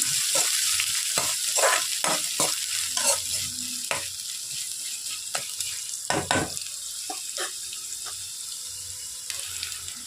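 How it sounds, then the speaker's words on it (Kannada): Onion and coriander frying in a pan, a running sizzle broken by sharp clinks and scrapes of stirring and bursts of running water from a tap, all close by and without talk. "ಹಾಗೆ ಈರುಳ್ಳಿ ಮತ್ತು ಕೊತ್ತಂಬರಿ. ಎಲ್ಲನೂ ನೀಟಾಗಿ ಫ್ರೈ ಮಾಡ್ಕೋಬೇಕು."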